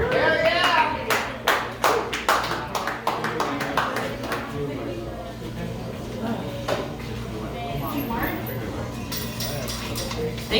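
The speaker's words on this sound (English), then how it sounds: "Warm round of applause." An audience at an open mic comedy night claps, starting with a few sharp, separate claps that quickly swell into steady, dense applause close by. Voices talk over it throughout.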